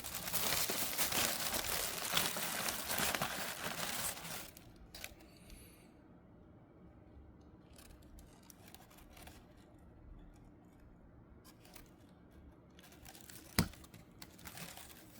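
A raw Simao puer tea cake from spring 2025 is unwrapped from its paper. Loud crinkling and rustling come first, then quieter, scattered rustles, and one sharp crackle near the end.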